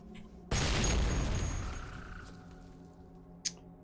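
A boomer explodes in Cataclysm DDA with a sudden loud boom that rumbles and slowly decays over a few seconds, followed by a short sharp pop near the end.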